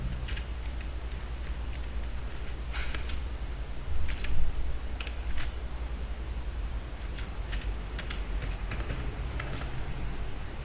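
Typing on a computer keyboard while entering text into an invoice form, a steady run of quick key clicks with a few louder taps, alone against a faint background hiss.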